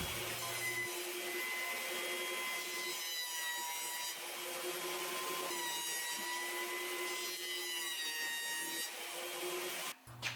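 A wood planer feeds shelf boards through, with a loud, steady motor whine and a rough cutting roar that swells and eases as each board passes, stopping abruptly at the end.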